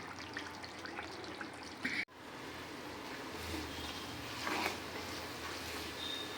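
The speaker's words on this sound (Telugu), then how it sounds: "ఇప్పుడైతే మనకు ఆయిల్ మరుగుతుంది" Ayurvedic hair oil simmers over a low flame in a pan, its ingredients crisping, with a faint, steady fizzing and bubbling crackle heard up close and no voices.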